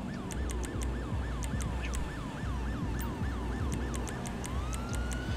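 Ambulance siren in the police game GTA V with the LSPDFR mod, a loud, continuous wailing yelp that sweeps up and down in quick repeated cycles, with sharp higher bursts over a steady low engine rumble.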